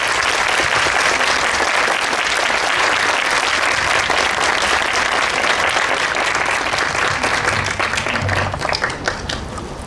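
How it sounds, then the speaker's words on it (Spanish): Audience at a Spanish-language literary lecture applauding a speaker, a full, loud, sustained round of clapping that fills the hall and begins to thin out and fade near the end. "démosle un fuerte aplauso"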